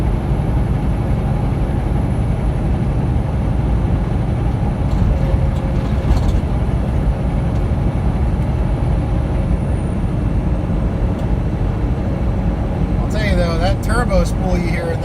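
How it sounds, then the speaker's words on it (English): Car engine turbo spooling while driving through hills, a rising whistle that comes through late over constant loud road and engine noise. "Turbo spool you hear in this engine"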